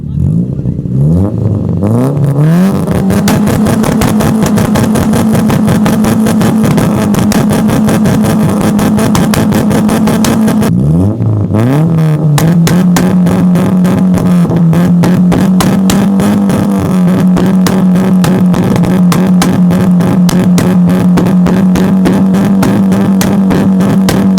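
A Maruti Zen with a swapped 1.3-litre Esteem engine idles and revs hard through a loud, raspy banger exhaust kit, with sharp popping bursts between revs, close and continuous.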